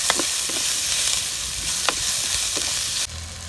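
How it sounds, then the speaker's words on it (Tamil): Chopped tomatoes sautéing in a pan for okra sambar, with a steady close sizzle and a few sharp utensil scrapes and stirs spaced through it, the frying dropping abruptly quieter near the end. "தக்காளியும் போட்டுக்கலாம். போட்டு நல்லா வணக்கிக்கலாம்."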